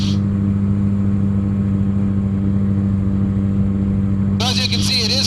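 Quicksilver GT500 ultralight aircraft engine droning loud and steady in flight, close and unbroken, with a voice speaking briefly over it near the end.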